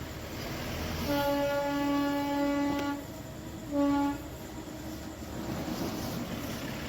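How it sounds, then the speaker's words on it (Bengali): The Darjeeling toy train sounds its horn nearby: a long blast, then a shorter one, over a steady rumbling background. "আর দেখুন টয় ট্রেন আসছে"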